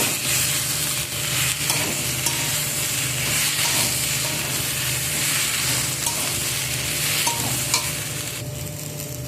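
Ground spice paste is stirred into frying ingredients in a pan, giving a continuous close sizzle broken by scraping stir strokes and occasional louder clicks.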